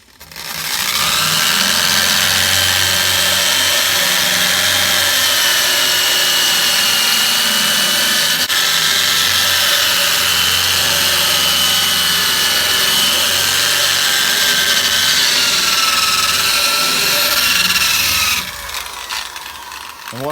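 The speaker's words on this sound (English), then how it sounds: "About to come through here with the wire brush, clean all this up, clean the inside of the frame rail out" A wire brush scours the rusty, hole-damaged frame rail of a 1969 Plymouth Roadrunner, giving a loud, steady abrasive whirr and rattle that runs for about eighteen seconds before cutting off abruptly.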